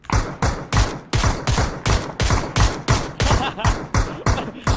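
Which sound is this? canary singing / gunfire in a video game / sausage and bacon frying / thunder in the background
gunfire in a video game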